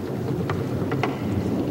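Steady rain falling in a wild chimpanzee habitat, a dense continuous hiss with low rumbling underneath and a few faint brief sounds on top.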